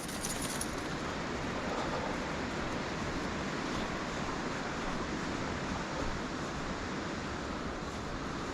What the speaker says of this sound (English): But you can hear the river to my left here.